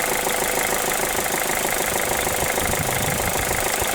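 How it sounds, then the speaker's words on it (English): Mazda2 petrol engine running on hydrogen, idling with a steady close mechanical clatter and rough knocking under a broad hiss, continuous and loud with no talk. "It shouldn't have this knocking sound."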